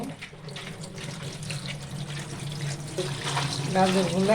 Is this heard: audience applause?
no